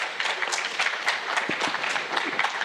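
An audience at an IT staffing entrepreneurs event gives a steady, continuous round of applause, many hands clapping together at moderate volume, with no talking.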